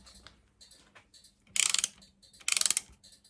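A wrench ratchets a tapered H7 Allen fitting into an aluminium part on a CB Performance 2017cc engine build, giving two close bursts of rapid clicking between faint handling sounds, with no talking.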